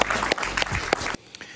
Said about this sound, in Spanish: Un aplauso para Ramsey, por favor.